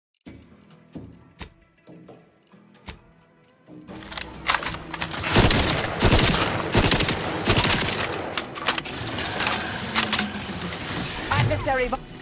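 Rapid gunfire bursts from combat in the video game Outer Worlds 2, loud and dense from about four seconds on, layered over sharp cracks, with a voice talking over the action.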